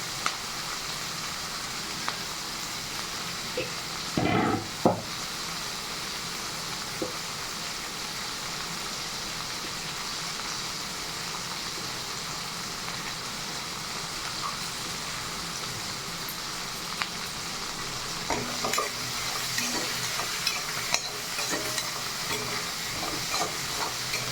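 Ginger sautés in a pan while green chilli pickle is being made, giving a quiet, continuous sizzling hiss with occasional clattering stirring scrapes.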